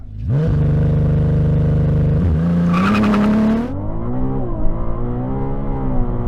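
A Ferrari with an 830-horsepower engine launches from a standstill, its engine holding a loud steady high rev before surging and climbing through the gears, then settling into a lower continuous drone as it pulls away.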